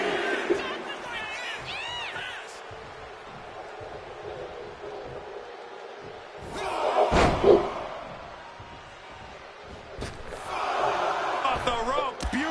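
Wrestling arena crowd in the video game WWE 2K26, a continuous roar that swells loudly midway, with an impact thud, under commentary talk.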